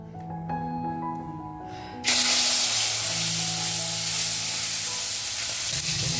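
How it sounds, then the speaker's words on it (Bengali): Fish sizzles in hot oil for a Bengali home meal, the loud steady crackle surging up abruptly and holding strong and close, with no talking. "আগে মাছটা ভেজে নিই"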